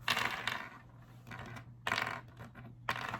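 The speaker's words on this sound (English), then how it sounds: "they sound like nice, hard, firm beads" Handmade paper beads click and rattle together in short bursts, three or four clusters of crisp, hard taps close up and fairly quiet, with no talking.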